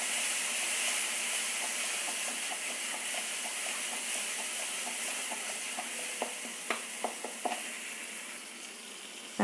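Chili powder masala sizzles and fries steadily in oil in a pan, with a continuous bright hiss and a few light taps of a spoon stirring near the end.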